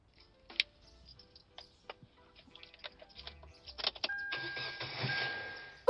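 A car engine cranks and catches after scattered clicks and faint rustling, then settles into a steady, fairly loud idle for the final two seconds, with no talk over it.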